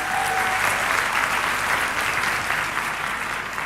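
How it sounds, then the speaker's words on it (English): A seated conference audience claps for a volunteer in a loud, even round of applause that fades a little toward the end, no voices over it. "Have a round of applause for Francis."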